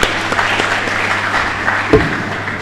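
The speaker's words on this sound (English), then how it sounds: "Let's give all of them a clap." Audience at a healthcare financing symposium applauds, a dense continuous patter of clapping heard close and fairly loud for a few seconds.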